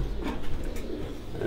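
Farran pigeons at a Gujrat pigeon sports festival coo softly in short low murmurs over a steady background hum, fairly near, with no talk.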